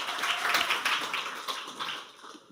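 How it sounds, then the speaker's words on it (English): A small audience claps warmly for a founder stepping on stage at a startup demo day, dense close applause that tapers off over a couple of seconds. "Give her a warm applause, please"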